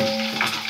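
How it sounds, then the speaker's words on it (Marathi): Curry leaves sizzle and crackle in hot oil for poha cooked on a wood-fired stove, a steady close frying hiss with a brief burst of spattering partway through. "कढीपत्ता टाकतो. कढीपत्ता तड तड तड तड"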